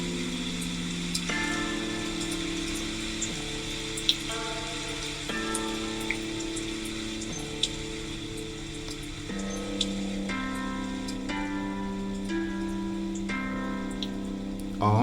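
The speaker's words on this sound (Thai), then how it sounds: "ถ้าสงบมากๆเสียงฝนจะหยุดไปนะฮะ" A rain sound effect from a BrainCo brainwave headset plays as a steady patter of droplets and ticks under soft sustained music tones, continuous and moderately quiet.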